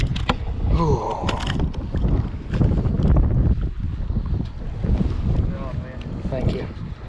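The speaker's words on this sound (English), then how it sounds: "So that wind started blowing. I don't know if you guys can hear it." Strong wind buffeting a bass fishing boat on open water, a loud, continuous rumbling roar across the microphone with gusty swells, a voice talking faintly beneath it.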